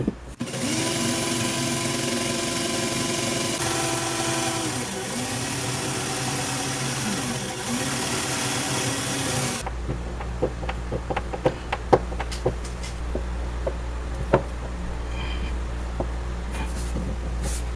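A power screwdriver drives screws into the rail of a pull-out kitchen basket drawer, whirring steadily in repeated bursts for the first half, then fading to scattered light clicks and taps of fitting work.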